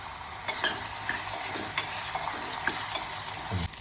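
Potatoes dropped into hot oil with garlic, turmeric and asafoetida in a pan for a dhaba-style potato curry, a loud continuous sizzle starting abruptly with scattered stirring scrapes before cutting off near the end.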